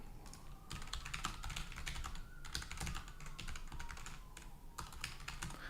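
Computer keyboard typing in dense, rapid bursts of clattering keystrokes with brief pauses, close and steady over faint background hum, no speech.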